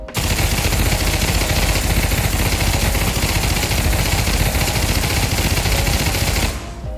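Sustained full-auto fire from an M249 light machine gun in the VR shooter Pavlov VR, a dense, loud, unbroken rattle of shots lasting several seconds before cutting off abruptly near the end.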